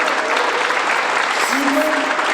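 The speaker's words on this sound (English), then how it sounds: "So not just a golf clap, but a rounded applause." A room of attendees at a startup-week panel discussion in Denver bursts into loud, full applause for the event's title sponsors, a dense steady wash of clapping with a voice briefly audible over it.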